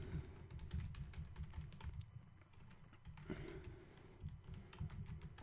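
Someone types a name on a computer keyboard while installing Linux Mint 17.1 alongside Windows 7, a steady run of soft, quick keystrokes close to the microphone.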